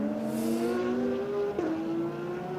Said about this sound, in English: I think it's the Peter Cox Porsche that we were watching there.